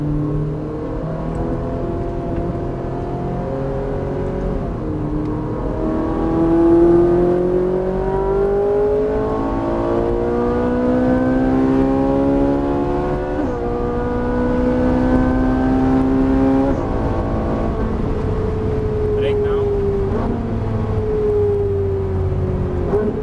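Ferrari sports car driving and accelerating, its engine note climbing repeatedly through gear shifts in loud, steady sweeps that dominate throughout with no talking.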